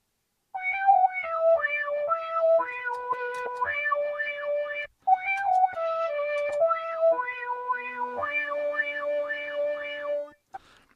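A guitar loop through an analog guitar pedal, played twice in a row: sustained melodic notes with a strong rhythmic wobbling pulse and added harmonics, clear and up front with no talking.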